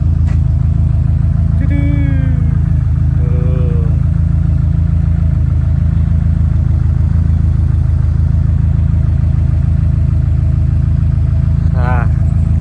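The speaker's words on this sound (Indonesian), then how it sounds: "Dia mobil hariannya Subaru WRX STI." A Subaru WRX STI engine idles with a steady, loud, close rumble throughout, while a faint voice or two briefly rises over it.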